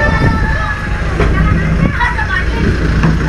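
A Warawiri public bus arrives at a Jakarta stop with a loud, steady engine rumble and road noise close by, and voices murmur underneath.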